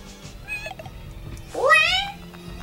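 A cat meows in Castlevania: Symphony of the Night, a short soft mew followed by a louder, drawn-out rising meow against a quiet game backdrop.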